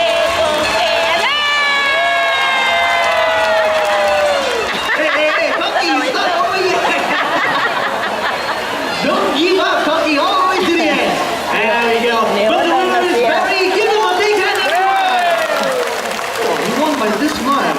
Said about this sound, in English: Very good cheering